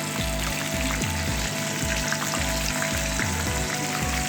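Fish pakora deep-frying in oil over a medium-low flame, a dense steady crackle and sizzle with small popping bursts throughout, close and fairly loud with no talking.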